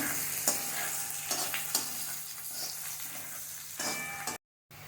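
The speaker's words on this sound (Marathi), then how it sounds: "आपल्याला हे मसाल्यासाठी छान भाजून घ्यायचं आहे" Masala with poppy seeds roasting in a pan for misal, with steady sizzling and repeated scraping strokes of a spoon stirring it, close and continuous until the sound cuts out briefly near the end.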